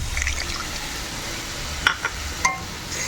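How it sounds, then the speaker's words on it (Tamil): Two cups of water go into a hot pan of raagi upma cooking in oil, giving a soft continuous sizzle and bubbling with a few sharp clinks of a utensil near the end, close and moderately loud, with no voices. "ஸோ இப்போ ஃபைனலாக வந்து தண்ணி வந்து ஒரு 2 கப் தண்ணி நான் ஆட் பண்ணுறேன்"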